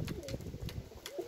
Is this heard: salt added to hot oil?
no